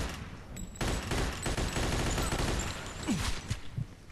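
Rapid bursts of gunfire from the Mafia 2 video game fire in dense, overlapping volleys, loud and continuous across the whole stretch.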